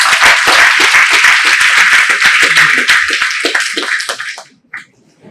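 Audience applause at a university physics department's National Space Day celebration, a dense burst of clapping from a hall crowd that holds steady for about four seconds, then thins to a few scattered claps and stops.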